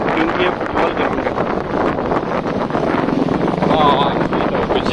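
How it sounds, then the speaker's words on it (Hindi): Strong wind blows across an open football ground before rain, a steady loud rush buffeting the microphone throughout with no pauses. "थोड़ा हवा चल रहा है"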